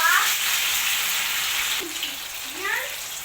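Fish cutlets frying in a pan give a soft, steady sizzle and hiss at low volume, with a couple of brief rising and falling tonal glides near the end.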